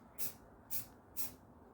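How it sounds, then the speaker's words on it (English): A spray can puffs paint onto model railway trackside drainage ditch pieces in three short even hissing bursts, close and fairly quiet, with brief gaps between them. "So I'm actually going to try to spray these a little bit far away"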